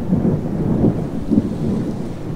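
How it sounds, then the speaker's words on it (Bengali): A nearby thunderclap rolls in low, heavy rumbles over a steady hiss of rain in a Bengali horror-comedy audio drama, with no voices over it. "প্রচণ্ড শব্দ করে কাছাকাছি কোথাও বাজ পড়ল"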